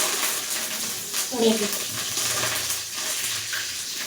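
Curry leaves hit hot oil for a Tamil-style ayila fish kuzhambu, giving a soft crackling sizzle with brief spatters and a light clink, while someone talks over the cooking.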